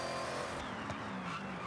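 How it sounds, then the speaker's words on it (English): A supercharged car in Forza Horizon gives off a steady high-pitched supercharger whine that sits over the engine roar and tire noise, loud and continuous throughout. "Oh, the supercharger whine."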